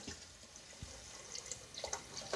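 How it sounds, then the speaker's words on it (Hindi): Water poured into a pressure cooker of arhar dal khichdi on a stove: a faint, light splashing trickle with a few soft drips and gurgles over a couple of seconds, no speech. "अब इसमें पानी डालते हैं"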